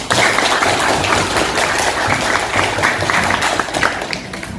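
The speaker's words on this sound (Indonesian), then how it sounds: "Tepuk tangan bagi kita semua." Loud, dense clapping from a tenth-grade class fills the room evenly for several seconds, tapering slightly toward the end.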